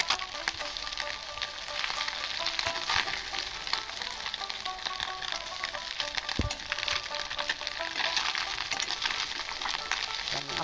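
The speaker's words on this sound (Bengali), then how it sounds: "বন্ধুরা, আমার তেলটা প্রচণ্ড গরম হয়ে গেছে। আমি এবার মাছগুলো দিয়ে দেবো অল্প করে।" Small mourala fish fry in very hot oil, a continuous hissing sizzle that holds steady throughout with no talking.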